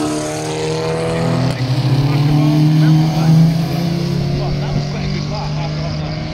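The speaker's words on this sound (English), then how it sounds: "The Subaru WRX STI blow by." A Subaru WRX STI passes at Knockhill race circuit, its steady loud engine note swelling and fading as it goes by, with crowd noise and voices in the background.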